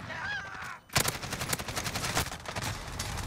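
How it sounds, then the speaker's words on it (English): Rapid game gunfire, shotguns in Call of Duty: Modern Warfare (2019), erupts after a brief tonal sound and a short gap, with sharp blasts fired in quick, dense succession at close range. "Shotgun, shotgun, shotgun. More shotguns."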